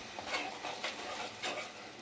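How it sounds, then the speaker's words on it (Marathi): Spice paste frying in hot oil in a pan, a soft steady sizzle with a few faint scraping stirs, fairly quiet and close. "त्यात घातले वाटण छानपैकी तळून घेऊया तेलामध्ये"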